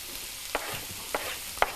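Carrots fry quietly in a pan for a cabbage pie filling, with a faint steady sizzle and three short scraping stirs spaced at even intervals.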